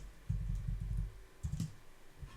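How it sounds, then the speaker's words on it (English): Computer keyboard typed on for an HTML tutorial: a quick run of soft, close key taps, a pause, then a second short burst including a firmer keystroke for the Enter key. "So type in BR, hit enter."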